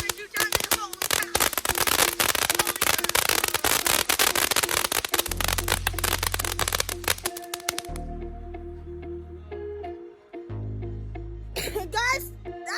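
A backyard firework show bursts into several seconds of dense, rapid crackling and popping, loud and close, then fades to lower rumbling while excited voices talk over it.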